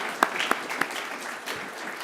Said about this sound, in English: Go ahead and give yourselves a round of applause for doing that.